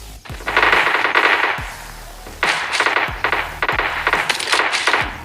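Rapid bursts of M16 rifle gunfire in the PUBG battle royale game, loud and sustained automatic volleys with short pauses, interspersed with sharp clinking shell-like ticks, with no talking.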